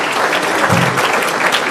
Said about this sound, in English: let's applaud for those wonderful